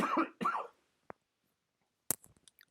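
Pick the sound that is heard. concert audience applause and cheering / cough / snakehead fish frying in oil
cough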